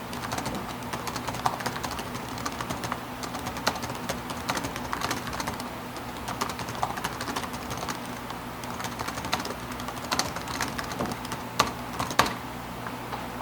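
Steady, continuous typing on the keyboard of a 2008 HP premium media laptop, crisp close keystrokes in an even rapid flow with occasional louder taps, heard alone without talk.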